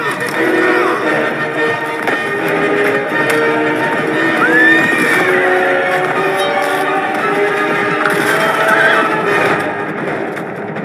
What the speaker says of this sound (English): so that the cavalry could charge through the gaps